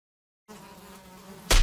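Flies buzzing in a steady, thin drone that starts abruptly after a brief silence, ending with a sudden loud broadband burst.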